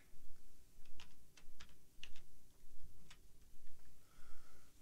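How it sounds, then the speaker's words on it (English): Typing on a computer keyboard, a handful of sharp, irregular key clicks close by over a quiet room hum, with no speech. "So I'm gonna go up here, type impact,"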